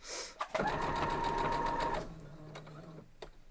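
A sewing machine runs in one short, fast burst of stitching through quilt block pieces, close and clear, then stops and leaves a quiet background.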